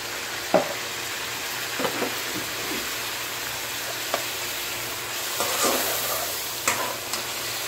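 Chicken frying in a pan with ginger garlic paste added, a steady sizzle under scattered scrapes and clacks of a spoon stirring, close and moderately loud, with no talking.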